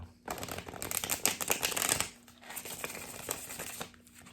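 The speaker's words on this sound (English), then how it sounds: "let's do one shuffle for you guys" A deck of cards being shuffled for a tarot-style reading, a loud riffling burst followed by a second, softer stretch of rapid papery flutter, up close with no talking.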